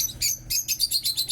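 Small birds chirp beside a pool at a residence in San Fernando, Pampanga, a quick series of bright, close tweets repeating in a rapid rhythm.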